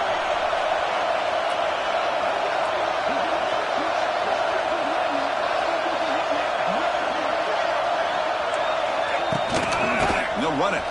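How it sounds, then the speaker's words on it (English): A fired-up college football crowd roars continuously in a stadium, loud dense noise with rising whoops, and a play-by-play announcer talks over it. "this crowd is fired up. Listen to this noise here."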